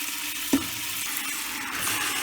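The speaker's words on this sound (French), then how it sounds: "Donc maintenant je vais venir ajouter mon chou." Cabbage drops into a pan of frying sausages, giving a steady bright sizzle with a soft thump of food landing early on, fairly quiet and close with no talking.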